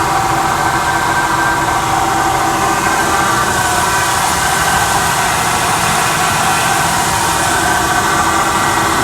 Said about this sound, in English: Sounds like it's coming right from the middle of the drive shaft.